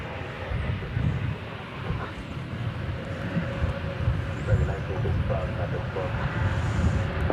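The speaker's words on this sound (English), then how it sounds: "And there's the Frontier flight 2923" Frontier Airlines passenger jet at DFW Airport, a steady broad engine roar held at moderate distance for the whole stretch, with faint voices talking underneath.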